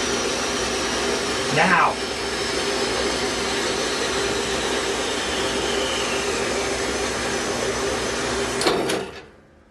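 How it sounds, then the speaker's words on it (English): A band saw cuts aluminum in a hammer-making lab, giving off a loud, steady, broadband roar with a faint shifting whine. A short spoken word comes near the start, and the noise cuts off at the end. "has a tendency to change the pitch and tone of the sounds coming out of the saw"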